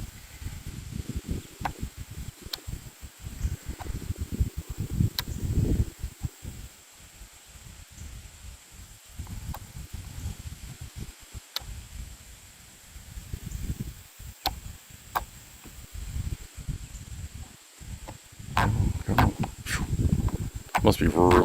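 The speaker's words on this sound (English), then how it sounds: "Must be really windy over there." Wind gusts outdoors at the C.P. Crane Power Station demolition site in Middle River, with low rumbling buffets that swell and fade throughout and grow stronger near the end.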